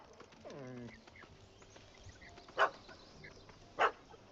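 Two short, sharp barks from a dog in The Witcher 3 video game, spaced about a second apart, moderately loud over a quiet game soundscape with a brief birdlike warble near the start.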